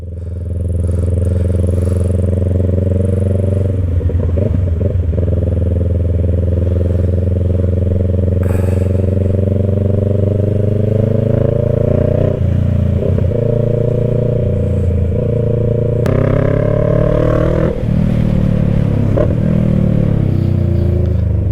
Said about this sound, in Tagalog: Ayun o sila dito. Napakarami nila.